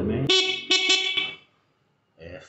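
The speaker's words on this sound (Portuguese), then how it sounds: "A buzina tá funcionando também." Three short, bright electronic honks from a 250W electric scooter horn in quick succession, close and loud, preceded by a voice and followed by silence, then a voice again.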